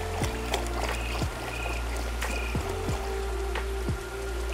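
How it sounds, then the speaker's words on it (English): Water poured out of and back into an XP gold pan outdoors, a steady splashing trickle with scattered drips and small knocks, close and continuous throughout. "Get rid of the water and place some new water in the pan."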